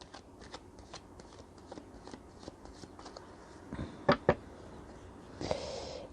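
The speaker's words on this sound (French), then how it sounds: "je vais quand même tirer quelques cartes avec le Béline pour voir un petit peu" Béline oracle cards being shuffled and drawn by hand: soft, steady riffling and sliding of the deck, then a couple of sharper card snaps and a brief rustle as a card is pulled out.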